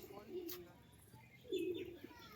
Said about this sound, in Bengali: তিনশোর কাছে পায়রা আছে তাই না